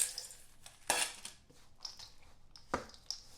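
A utensil works through rocky road cookie dough in a bowl, giving quiet scraping and a few sharp clinks against the dish, sparse and close in a fairly quiet kitchen.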